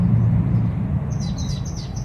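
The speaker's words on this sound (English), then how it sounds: "You can hear the birds chirping." Several birds chirp outdoors beside an ice bath setup, with faint high tweets in a quick series emerging over a low rumbling background, fairly distant and light.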